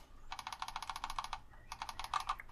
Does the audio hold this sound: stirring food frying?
no